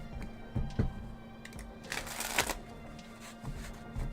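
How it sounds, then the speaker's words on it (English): A deck of tarot cards is shuffled, giving soft riffling bursts and a few sharp flicks and taps, close and fairly quiet, with no talking. "I'm going to shuffle."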